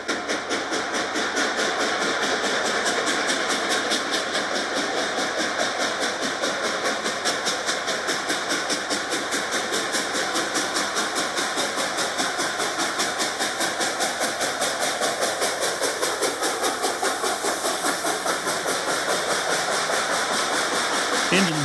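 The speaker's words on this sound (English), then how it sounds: "Engine's working hard." Reading & Northern 2102 steam locomotive working hard from the cab, a loud continuous rapid chuffing exhaust roar with steady mechanical clatter, close and sustained throughout.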